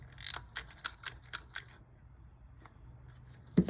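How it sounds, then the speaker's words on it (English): Scissors snipping through a pasted paper index card, five or six crisp, evenly spaced cuts close up, then a pause with a faint click before a louder handling thump at the end. "I will have to curve it with my scissors"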